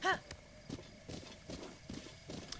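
Horse hooves clip-clop in the Zelda Breath of the Wild video game, a steady walking rhythm of soft thuds repeating at a moderate pace under faint game ambience.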